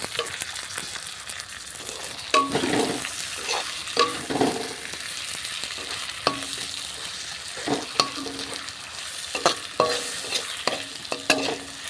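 Chopped tomatoes hit a pan of browned onions, setting off a steady, close sizzle and fry with repeated scraping stirs and utensil knocks for the whole stretch, with no talk over it.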